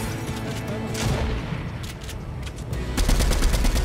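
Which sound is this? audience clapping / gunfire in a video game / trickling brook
gunfire in a video game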